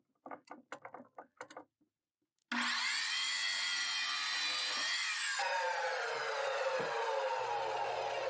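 Power saw cutting 2x4 lumber for a workbench: after a few short knocks, the motor bursts in loud and close, its high whine and rasp holding steadily through the cut, then easing to a lower, steady spin-down.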